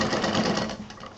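Sewing machine stitching lace onto a patchwork craft piece, a brief, close, continuous whirring run of rapid stitches that eases off slightly at the end.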